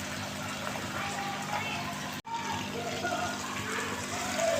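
Tomatoes go into chicken karahi already frying in a pan, giving a steady close hiss and bubbling sizzle with a brief dip partway through, moderately quiet and without talk.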